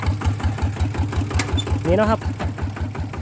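A Siam Kubota-style walking tractor engine runs close by with a fast, steady knocking chug, its clutch failing to disengage; someone talks over the engine.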